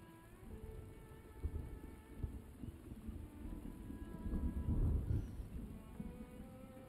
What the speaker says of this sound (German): Also ich habe irgendwie die ganze Zeit Gewitter.